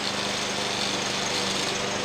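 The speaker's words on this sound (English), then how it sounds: "PJ's out mowing the grass." A lawn mower cutting grass on a goat homestead, a steady engine drone with a constant hum, unbroken and fairly close, with no speech.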